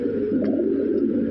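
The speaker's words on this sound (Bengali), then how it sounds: "অনেক হাই কোয়ালিটি কবুতর" A pair of black Lahori pigeons at a loft coo in a close, steady, throaty drone that stays even and unbroken throughout.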